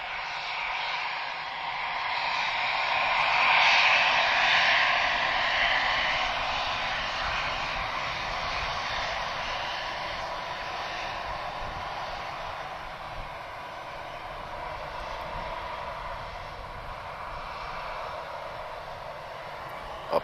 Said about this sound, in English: we've got an Air France just taking off right in the middle